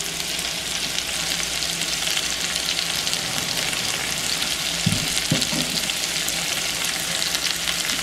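Onion frying in a pan, a dense steady sizzle close by with a few stirring knocks partway through and no talking.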